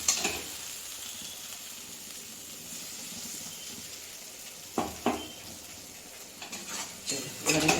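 Tomato paste fries in a pan with ginger and chili paste, a steady bright sizzle running throughout with a few sharp clinks and scrapes of a utensil near the middle and end.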